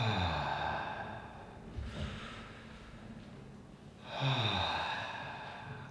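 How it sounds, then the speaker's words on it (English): Deep mouth breathing during a bioenergetic exercise: slow, close inhales and sighing exhales, two or three long breath cycles in a quiet room. "breathing deep through the mouth as follows."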